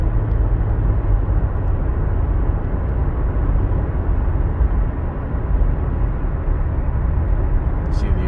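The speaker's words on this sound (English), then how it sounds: "Light acceleration." A 2015 Nissan Murano engine under light acceleration, with a steady low rumbling drone that holds at an even, fairly loud level throughout, heard from inside the vehicle.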